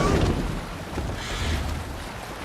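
Wind and sea wash around a sailing longship on open water in Assassin's Creed Valhalla, a steady broadband rush with no talk.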